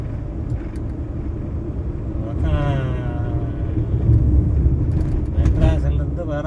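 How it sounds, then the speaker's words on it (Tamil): A vehicle approaches along a rural road, its engine rumble swelling in loudness over the last few seconds while someone talks over it. "இங்கே ஒரு வண்டி வருதுங்க"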